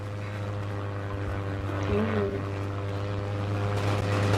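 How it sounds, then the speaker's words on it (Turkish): An air-strike airplane in the Roblox video game drones with a steady, continuous propeller hum throughout, fairly close, with faint voices in the background. "Uçak saldırısı. Uçak saldırısı."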